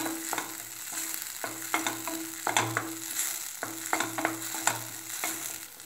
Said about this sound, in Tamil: இப்போது சீரகத்தூள் ஆட் பண்ணிக்கலாம். இப்போது இதையும் நல்லா மிக்ஸ் பண்ணிக்கலாம்.